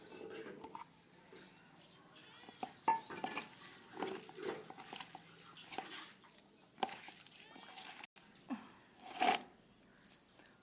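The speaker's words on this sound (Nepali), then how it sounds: "अब हामी यसलाई मिक्स गर्छौँ।" A spoon stirs potato and cucumber pickle (alu and kakra achar) with sesame, cumin and spices in a bowl, giving soft scraping and occasional clinks of metal against the dish, fairly quiet and close.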